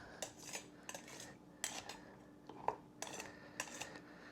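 A utensil taps and clinks against the inside of glass canning jars filled with ham and bean soup, working out air bubbles in several quick, light, scattered knocks, close and quiet.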